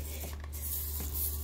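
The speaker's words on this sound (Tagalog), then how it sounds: "Spray." A spray bottle gives a few quick spritzes near puppies' area during a morning routine, short soft hissing bursts close by over a low steady background hum, with no talk.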